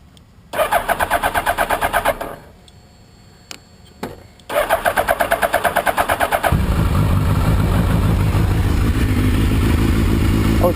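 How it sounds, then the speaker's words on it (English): A 2003 Suzuki Hayabusa motorcycle fitted with an Akrapovic exhaust cranks over twice with a rhythmic starter whir, then fires up and settles into a loud, steady idle close by. "That exhaust sounds really good, and actually it's really mellow"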